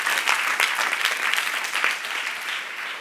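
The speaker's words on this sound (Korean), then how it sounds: "박수하시오." An audience claps together in a church youth gathering, a dense burst of applause that holds steady and then tapers slightly, close and lively, with no talking over it.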